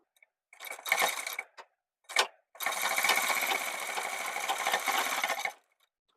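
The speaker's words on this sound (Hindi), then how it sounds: "तो इसमें हम सिलाई लगा लेते हैं।" Sewing machine running while stitching the pocket flap of a child's pathani kurta: a few short bursts of whirring stitches, then one steady run of about three seconds, close and loud with no talk.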